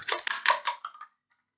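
Two eggs being mixed in a bowl for a Japanese dinner, a short run of quick scraping, tapping strokes that fade out after about a second.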